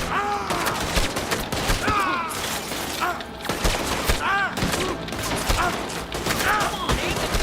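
Gunfire in the video game Red Dead Redemption 2, a steady barrage of overlapping shots with repeated ricochet-like whines, busy and loud throughout a tense shootout.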